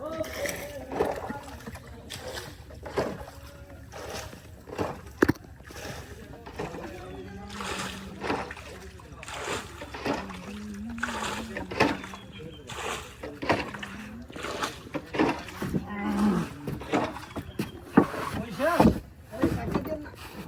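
A wooden rowboat glides through the flooded Ratargul swamp forest in Sylhet, with soft paddle splashes and water sloshing against the hull as people talk and call out aboard throughout.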